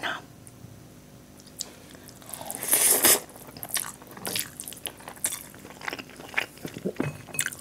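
Close, crisp bites and soft wet chewing of shahi paneer with rice, a louder crunchy bite near the middle followed by smaller munching sounds, eaten without talk.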